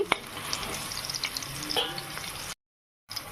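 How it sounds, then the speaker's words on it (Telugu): Green chillies fry in hot oil for mango pulihora, a dense crackling sizzle with a few stirring scrapes, close and steady, then a brief full silence before the frying returns. "పచ్చిమిరకాయలు ఫ్రై అయిపోయింది బాగాను ఇలా ఫ్రై చేసుకోవాలి"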